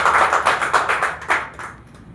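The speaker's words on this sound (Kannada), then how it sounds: "ಎಲ್ಲರೂ ಜೋರ ಚಪ್ಪಾಳೆ." Audience applause at a prize draw event, a brief burst of scattered clapping that pulses for about a second and a half and then thins out and fades, with no voices over it.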